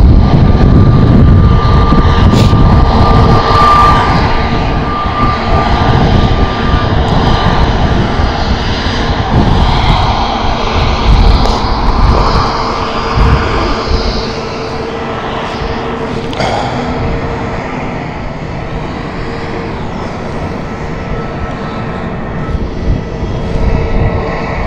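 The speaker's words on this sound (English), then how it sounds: "Papa Charlie Tango Oscar, private owner, Global 7500" A Bombardier Global 7500 private jet at Stansted Airport roars loudly and close at first, its engine whine steady and then slowly easing as the rumble fades somewhat, with no voices.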